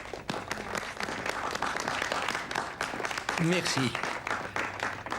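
An audience applauds a man at a trophy ceremony with steady, moderately loud clapping that fills the room, and a brief spoken thank-you comes through the applause.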